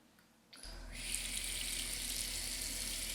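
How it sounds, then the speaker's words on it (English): A bathroom tap turns on into a sink after a brief quiet moment, then gushes in a steady, close, hissing stream of running water. "run the water."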